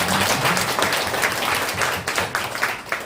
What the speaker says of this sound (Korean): 하나님 아버지께 감사와 영광의 박수를 이 시간